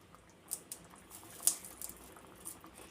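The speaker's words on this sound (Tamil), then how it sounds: "3 நிமிஷம் நல்லா கொதிக்கட்டும் ஃப்ரெண்ட்ஸ்" Egg masala gravy bubbles softly as it simmers in a pan, with faint irregular pops and patters over a low hiss.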